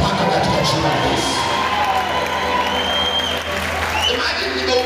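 A church congregation applauds and cheers a preacher during a sermon, with sustained, dense clapping and scattered shouts. Voices mix in under the steady, loud crowd noise.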